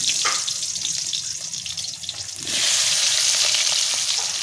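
Potatoes frying in hot oil in a home kitchen for a young jackfruit and chicken curry, giving a steady close sizzle that swells louder partway through.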